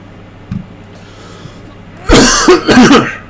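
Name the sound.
cough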